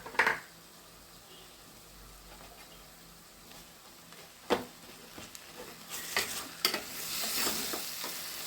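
Grated raw mango tossed into a hot pan for mango chitranna, a soft sizzle with occasional stirring scrapes and clinks that build louder toward the end, no talk.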